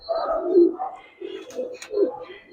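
Giribaz pigeons coo close by, several soft throaty calls in a loose, repeating rhythm with short pauses between them.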